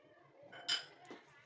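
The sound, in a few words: mashing hot potatoes with margarine in a pot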